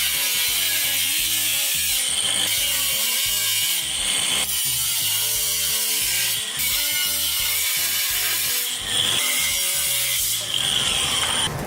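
A power saw cuts out a piece of exhaust pipe for an open-header cutout, giving a close, rasping, rhythmic grind with short pauses between strokes.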